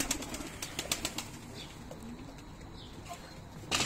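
Close-up cooing from white kılıç kanat pigeons on a rooftop, with soft repeated calls and a few bursts of flapping wings near the microphone.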